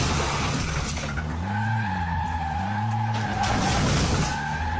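A car skidding in a driving video game, loud continuous tire screeching with wavering pitch over a steady engine drone, close and unbroken throughout.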